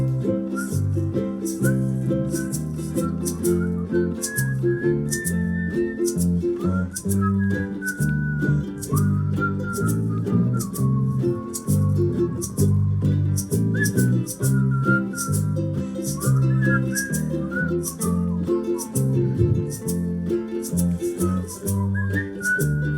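A person whistles a flowing melody for over twenty seconds, clear and close, with sustained and gliding notes over a soft steady backing accompaniment.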